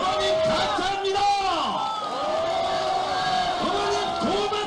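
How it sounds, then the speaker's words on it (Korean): A crowd at an outdoor political rally in a Daegu market shouts and cheers in long rising and falling waves of massed voices, loud and continuous throughout. "여러분 큰 함성 한번 외쳐주십시오"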